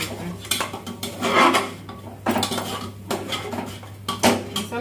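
Masala roasting in a pan for rajma while a spoon stirs and scrapes it, with repeated close metallic clinks and scraping strokes in an uneven rhythm and no talking.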